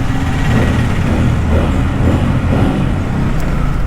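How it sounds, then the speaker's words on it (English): Bajaj Pulsar N250 motorcycle idling through its twin-outlet double-barrel exhaust, a loud, close, steady low engine rumble without revving. "This is kind of a double barrel exhaust, 2 outlets."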